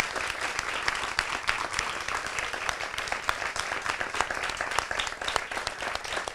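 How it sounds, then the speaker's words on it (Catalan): A crowd of performers and audience at a casting event applauds, producing dense, steady clapping that fills the whole stretch evenly at a moderate level. "a mi m'agradaria demanar un fort aplaudiment a tots i cada un de vosaltres"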